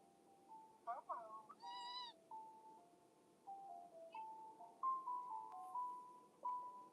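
A cat meows repeatedly in soft, drawn-out calls, a few sharper and higher-pitched, spaced across a quiet indoor setting and heard close but at low volume.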